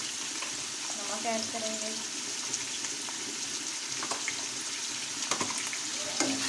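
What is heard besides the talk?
frying chicken keema in a pan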